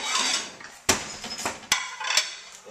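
Omelet flopped over in a cast iron pan with olive oil, giving a few sharp metallic clanks and scrapes of spatula against iron, close and fairly loud with brief pauses between hits.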